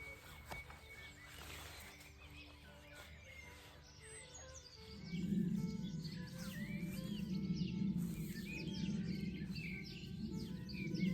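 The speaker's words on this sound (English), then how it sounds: "listening to the birds sing" Faint birdsong in a garden in early May, scattered chirps and tweets outdoors, joined midway by a steady low rumble.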